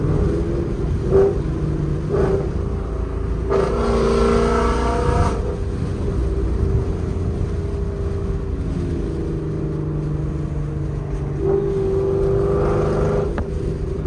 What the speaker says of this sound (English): Let's get some downshifts.